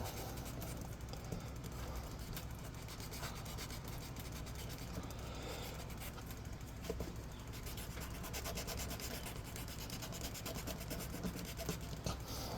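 Steady, scratchy rubbing of an emery board worked back and forth in quick, continuous strokes, close and moderately loud.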